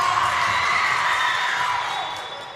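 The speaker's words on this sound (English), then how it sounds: "You see all of the very, very loud cheering." Loud crowd cheering and yelling in a gym at a volleyball match between Prolink and A5 Gwinnett, a steady roar that holds throughout and eases slightly toward the end.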